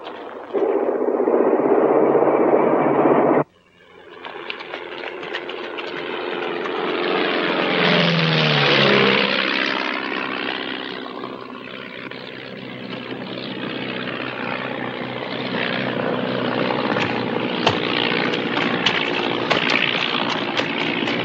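A propeller aircraft lands in a film scene: a loud, continuous engine roar that cuts off abruptly early on, then swells into a broad, rushing pass and settles into a steady drone with no talking.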